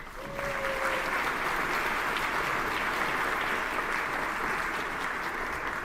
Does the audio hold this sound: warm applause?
yes